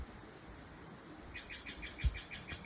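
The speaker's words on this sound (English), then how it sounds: "The birds are chirping" Faint birds chirp outdoors in a quiet setting, with a quick run of high repeated tweets in the second half.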